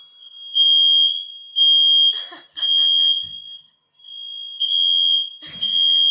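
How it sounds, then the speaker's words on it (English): A fire alarm set off by steam from a shower, a loud high-pitched beeping repeating in long bursts with short gaps, while a person talks briefly in between. "I think my housemate set the fire alarm off with the steam in the shower."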